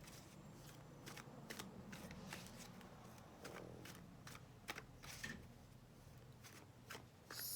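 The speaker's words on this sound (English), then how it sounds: "All right, we'll shuffle more then." Quiet card shuffling up close, a series of quick riffling snaps and soft flicks at an uneven pace.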